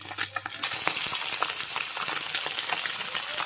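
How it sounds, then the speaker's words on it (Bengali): Folui fish fry in hot oil with a loud, continuous sizzling crackle that swells after a brief quieter start and stays dense throughout. "মাছগুলো সব ভেজে নেব"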